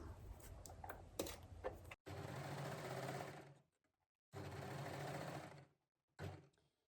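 An overlocker runs in bursts while stitching fabric for a one-shoulder top: a short stuttering start, then two sustained buzzing runs of about a second and a half each, and a brief final burst, close and fairly loud with no talk.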